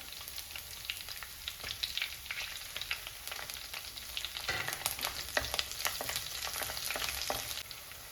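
Garlic and green chilies frying in a pan for Kerala-style sardine curry: a continuous bright sizzle with crackling pops and occasional stirring scrapes, close and steady throughout, with no talking.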